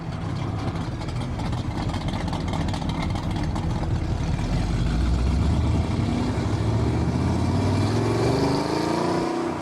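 A Shelby Cobra sports car with an open exhaust rumbles loudly and continuously, the deep engine note rising and shifting as it revs nearby.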